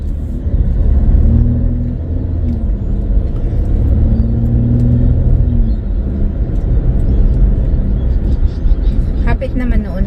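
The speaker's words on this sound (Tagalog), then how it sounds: "Ginudjud kay ang traffic." Car engine in morning road traffic, a steady low rumble with a faint rising and falling hum and a brief vehicle pass near the end, with someone talking over it.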